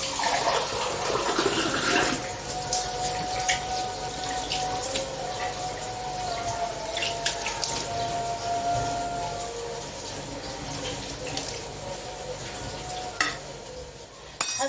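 Water poured and sprinkled onto semolina for couscous, a continuous splashing and trickling wash with soft grainy rustle, close and fairly steady throughout.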